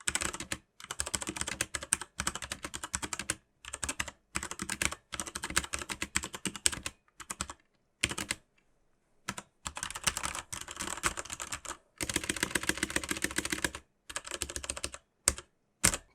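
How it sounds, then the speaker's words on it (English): Brown-switch Corsair K70 RGB MK.2 mechanical keyboard being typed on, a steady stream of close, crisp key clacks in bursts with brief pauses between, nothing else heard. "here's the typing test"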